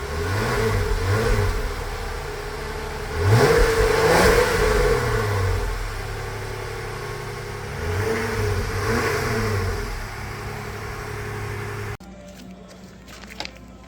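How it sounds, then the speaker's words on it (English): A 2022 Jeep Wrangler JLU engine revs through its stock exhaust in several rising and falling bursts, loud and close, settling back to a steady idle between pulls. "This is the before with the stock exhaust."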